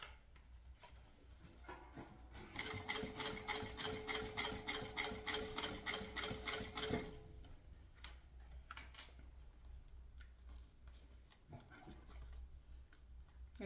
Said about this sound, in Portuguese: É que eu tô costurando da maneira que tá mais confortável pra mim.